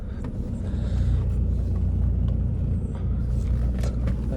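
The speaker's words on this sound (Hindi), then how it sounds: "गाड़ी अपने आप चढ़ रही है।" A Mahindra XUV500 engine pulling up a steep hill in first gear, a steady low rumble with faint rattles and knocks from inside the cabin, no talk.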